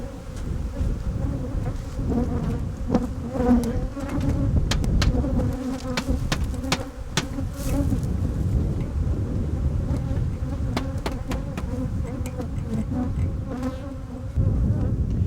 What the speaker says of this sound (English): pour up our bulk bees out of our boxes